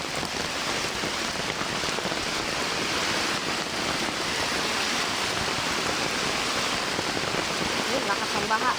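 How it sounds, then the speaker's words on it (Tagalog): Heavy rain pours steadily and loudly onto surfaces at an outdoor market, a dense continuous roar without pause, while someone talks briefly over it. "Lakas ng ulan guys."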